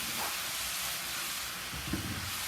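Vegetables sautéing in a hot pan for a home-cooked stir fry, a steady, loud sizzling hiss with faint clatter underneath, continuous throughout.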